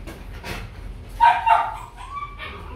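Vietnamese bobtail dogs from the Dong Van highlands of Ha Giang give a couple of short, fairly close barks and yips over a low background hum, with a faint whine trailing after.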